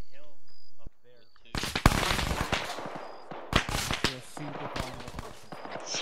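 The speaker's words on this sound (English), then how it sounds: "Shots coming in from the northeast." Gunfire in the ARMA 3 military game, coming from the northeast: loud bursts of machine-gun and rifle shots in several volleys after a brief quiet start, with a voice briefly heard at the beginning.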